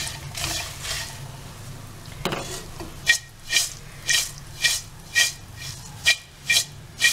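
Puffed rice roasting with garlic in a pan, stirred with a wooden spoon, gives a soft dry rasp at first, then eight sharp, evenly spaced scraping strokes, close and fairly loud, with no voices.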